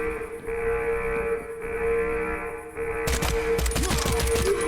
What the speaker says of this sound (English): They will shoot, and they're not joking.